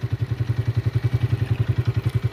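A motorcycle engine idles close by with a steady, fast thumping pulse, even and unbroken throughout, on a mountain road trip near snow-covered peaks.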